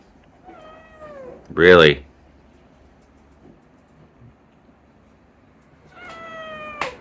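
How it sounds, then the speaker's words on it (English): A cat meows: a drawn-out cry is followed by another near the end, with a loud burst of voice between them and a brief spoken word, close by in a quiet room. "What a cat."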